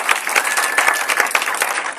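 A church congregation at a Sunday service claps and cheers in a brief, dense burst of applause, moderately loud and close, with a few scattered sharper claps.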